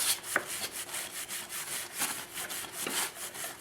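A stiff brush scrubs back and forth over a chain, making a steady rhythmic rasping of short strokes, close and moderately loud, with no talk.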